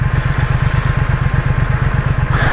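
A 2021 Triumph Thruxton RS motorcycle idles close by with a steady, throbbing low pulse at an even rhythm, heard alone and without talk.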